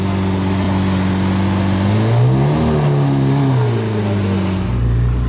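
A yellow Lamborghini Murciélago LP 640 on a Monaco street gives a loud, close engine rev, its pitch rising and falling in a couple of swells before settling back to a deep idle.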